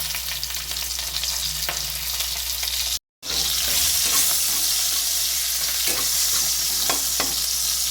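Green chillies frying in hot oil with a dry red chilli and cumin, a loud steady sizzle with scraping stirs throughout and a brief break partway, close up and without speech.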